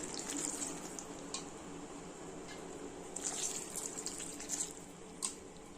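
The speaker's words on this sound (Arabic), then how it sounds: "وهنزل بقى بالشوربه برضك تكون سخنه" Hot broth is poured over stuffed cabbage rolls in a pot, giving a continuous soft watery splashing and trickling that swells briefly near the end.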